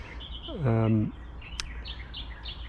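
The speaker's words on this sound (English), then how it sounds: "Australian reed warbler, just out here amongst these reeds." A short burst of Australian reed warbler song rises out of a low background hum among wetland reeds, a quick harsh churring phrase followed by faint distant chirps.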